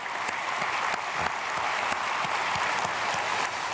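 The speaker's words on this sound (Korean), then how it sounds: "박수하겠습니다" A congregation claps at a Sunday service in a large Korean church, a steady wash of applause from many hands, continuous and even throughout with no voices over it.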